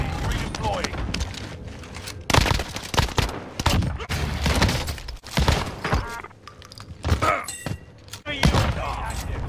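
Rapid gunfire bursts and booms fill a round of the video game Warzone on Rebirth Island, loud and near, mixed with thuds and in-game voice callouts throughout.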